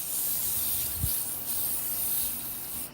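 A steady, broad hiss of bug spray in a zombie doll video game runs continuously through the clip, with one brief low thump near the middle.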